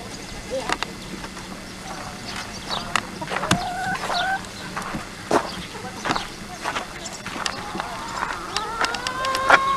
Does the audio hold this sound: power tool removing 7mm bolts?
no